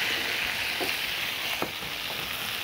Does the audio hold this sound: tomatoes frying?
yes